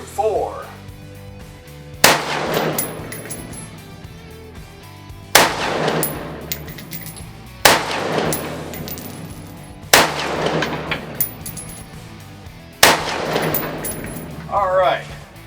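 Five sharp rifle shots ring out at the range, one every two to three seconds and each followed by a ringing echo, while faint handling noises and a brief murmur are heard between them.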